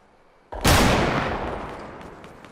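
A single loud burst of gunfire from a video game shooter, a sharp sudden crack that decays with a long echoing tail, with no talk over it.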